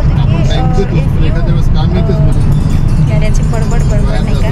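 Road vehicles idle and pass at a newly built bus stand in Parbhani opposite the railway station, a steady low engine rumble beneath close, loud talking.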